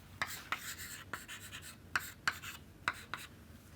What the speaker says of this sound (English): let me write it down here